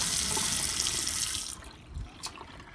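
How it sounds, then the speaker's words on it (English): Hot and cold running water from an RV sink faucet pours steadily and fairly close for about a second and a half, then shuts off, leaving a few faint drips and small knocks. "Hot and cold running water."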